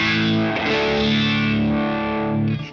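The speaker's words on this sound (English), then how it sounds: "The only thing about the Univibe, it has one great sound to it, and that is with the rate at about 70." Electric guitar played through the Uni-Vibe effect on a Boss Katana amp with the rate slowed, giving a loud, sustained chord that swirls and wobbles with a phaser-like sweep before cutting off.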